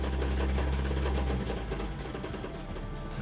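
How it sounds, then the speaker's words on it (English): A JDM car engine idles with an internal knock, giving a steady low rumble and a fast, even rapping pulse heard up close and fairly loud, with no talk. "That engine is knocking so bad."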